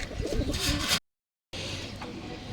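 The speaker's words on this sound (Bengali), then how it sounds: "কবুতর সিঙ্গেল কবুতরগুলো ঠিক আছে" Pigeons cooing close by in a fancy pigeon market, a soft low throaty coo on each side of a brief silent break.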